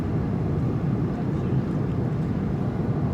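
A steady, loud airliner cabin drone during a flight to Las Vegas: a dense, even engine and airflow rumble that holds constant throughout without breaks.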